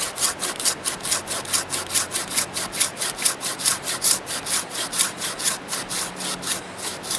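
A large bushcraft knife such as an ESEE Junglas, Mora Black or BK7 works outdoors through firewood in a fast, even run of rasping strokes, about three per second, close and loud throughout.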